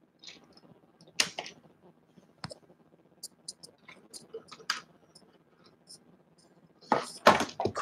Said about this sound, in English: I dropped the keyboard.